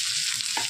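Chopped onion frying in oil with cumin and garlic in a pan, stirred briefly, giving a short steady sizzle with a scrape of the spoon near the end.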